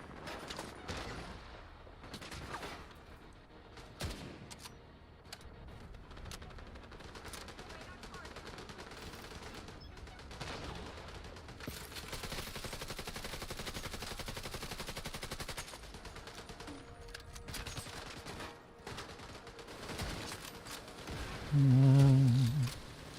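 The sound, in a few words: submachine gun fire in a video game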